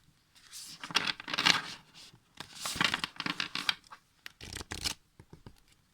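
An oracle card deck is shuffled close up in three brisk rustling bursts, followed by a few short papery flicks as a card is drawn.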